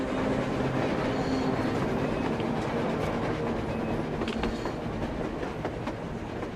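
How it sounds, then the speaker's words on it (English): A train rolls past in the post-apocalyptic game Metro Exodus, a steady loud rumble with clattering wheels and faint metallic squeals, continuous and close throughout, with no voices. "A train! A damn train on the surface!"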